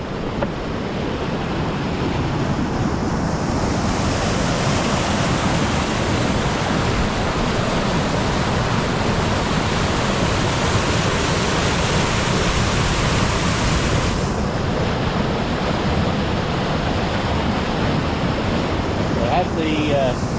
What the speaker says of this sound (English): Yes, that is quite the river flow.